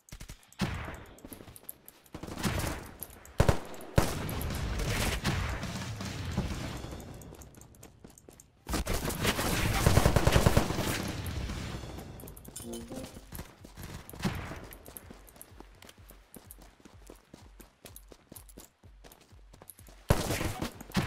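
M4 rifle fire in the online shooter Unturned, dense bursts of automatic shots crackling through a busy battle mix, with surges of loud rapid fire and a voice speaking faintly underneath at times.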